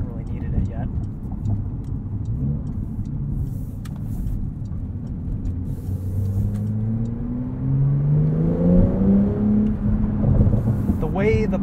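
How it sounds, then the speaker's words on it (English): A 2021 Porsche 911 Turbo S engine revs up with rising pitch as the turbos spool and it accelerates at night, a deep rumbling drone growing louder, with faint ticking and a voice near the end. "Those turbos spool up, and it's a really amazing experience."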